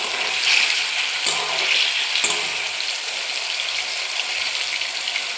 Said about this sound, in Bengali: এবার পনিরগুলো দিয়ে দেবো, অল্প করে একটু ভেজে নেবো।